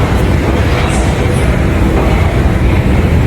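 A Beijing subway train in motion, heard from inside as a loud, steady low rumble with a continuous rolling rattle and a few faint high squeals.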